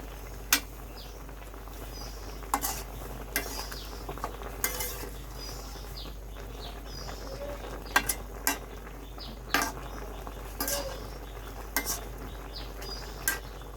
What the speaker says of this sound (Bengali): আবার একটু নাড়াচাড়া করে মিশিয়ে নিচ্ছি